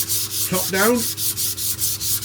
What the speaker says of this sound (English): You just see me then sanding this